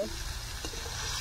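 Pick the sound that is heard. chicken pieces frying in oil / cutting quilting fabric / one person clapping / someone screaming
chicken pieces frying in oil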